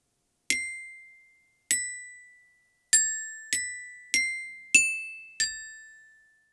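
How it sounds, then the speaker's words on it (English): Seven separate bell-like notes ring out in a slow melody on a tuned percussion instrument, each struck clearly and decaying alone, with no talking, for a children's mountain soundscape music lesson. "The melody line needs to be played on a tuned percussion instrument as it sounds like this."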